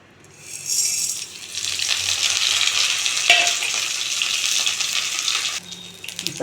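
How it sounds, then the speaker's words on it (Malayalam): Mustard seeds crackle in hot oil while tempering with urad dal and dried chillies, a bright steady frying hiss dotted with small pops and a few ticks, close and alone. "കടുകൊക്കെ പൂട്ടി വരുന്നു"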